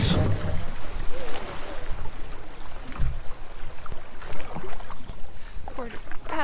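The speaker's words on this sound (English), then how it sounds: "We're just paddling along," Canoe paddling along a river on a multi-day wilderness trip through white water country, with water splashes and paddle strokes under wind, and people talking intermittently nearby.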